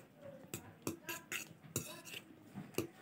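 Banana cake batter with vanilla stirred in a bowl, the utensil clinking and scraping against the bowl in irregular close taps.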